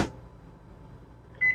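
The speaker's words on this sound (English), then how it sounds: "And the microwave will already have some water in there." Microwave oven powered by a portable inverter generator, a faint low hum after a soft click, ending in a single short high beep.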